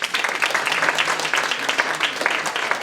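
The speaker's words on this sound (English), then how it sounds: "Give them a round of applause." An audience claps for teen contest winners at an award celebration, a brisk, continuous round of applause from a moderately sized crowd, fairly close and even throughout.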